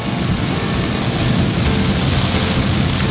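Heavy rain pours steadily during a late-afternoon drive along Selokan Mataram, drumming loud and dense on the car with a low rumble underneath and no talking.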